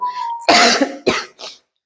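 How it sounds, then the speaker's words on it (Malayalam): Three harsh coughs in quick succession, close and loud, the first long and rasping, the next two shorter, with a faint tone beforehand. "എപ്പോഴും എനിക്ക് ഇങ്ങനെ ചുമ വരാറുണ്ട്"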